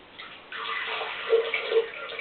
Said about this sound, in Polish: A mianowicie do miksera wlewamy około pół szklanki wody.